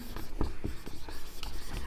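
Marker or chalk strokes on a classroom board, a quick run of short rubbing scratches in an uneven writing rhythm, close and moderately loud with no talking.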